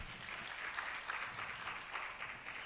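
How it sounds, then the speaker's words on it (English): Faint, distant audience clapping at a national cancer summit in Kenya, a steady patter of many hands sustained evenly with no talk over it. "Let's clap for him."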